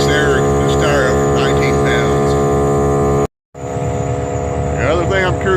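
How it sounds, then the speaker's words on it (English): A Milwaukee medium duty tire inflator airs up a heavy duty tire with a steady loud motor drone and hum, broken by a brief stop, while a person talks over it. "See how long it takes to air this tire up."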